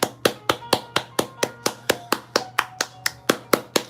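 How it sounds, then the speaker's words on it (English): A single pair of hands claps in a steady, even rhythm, about fifteen sharp, close claps at a live event, with no other sound between them. "I want to give them a round of applause."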